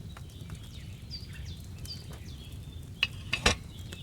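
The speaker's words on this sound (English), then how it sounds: "Hear that bubbling? It's boiling." A potion cauldron set over a flame bubbles as it boils in the medieval game Kingdom Come: Deliverance II, a soft continuous low simmer with a few sharper clinks and pops near the end.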